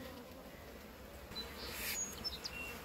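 Honey bees buzzing around frames of honey lifted from a hive, a faint, continuous droning hum with a few bees flying close past the microphone, some light chirps in the background and no talking.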